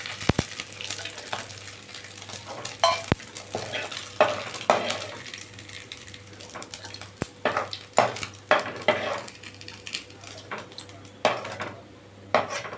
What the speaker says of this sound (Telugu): ఆ ఆయిల్లోనే ఉల్లిపాయలు కూడా వేసుకుంటున్నాను.